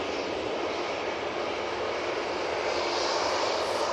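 Virgin Atlantic Airbus A330-300 arriving at Manchester Airport, a short steady hiss and rumble of jet engines, constant and fairly distant.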